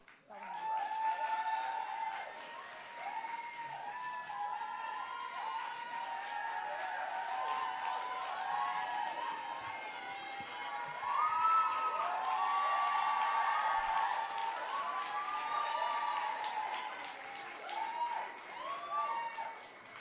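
Sustained audience applause at a high school graduation ceremony over a crowd's murmur, steady and fairly loud for the full stretch without a break.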